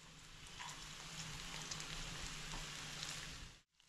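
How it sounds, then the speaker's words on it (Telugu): Almonds frying in ghee, a soft continuous sizzle with fine crackling pops, fairly faint and close, cutting off abruptly near the end. "నెయ్యి మీద ఇలా ఫ్రై చేసుకోవాలి"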